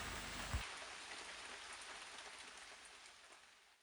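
Steady rain pattering on a surface in a New Forest setting, a dense continuous hiss of drops with one soft thump near the start, alone and fading slightly toward the end.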